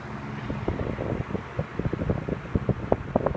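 A 1970s Toastmaster (McGraw Edison) model 5373 20-inch box fan with a five-wing plastic blade runs on its low setting, giving a steady whooshing drone with fluttery, uneven puffs of air noise close to the microphone.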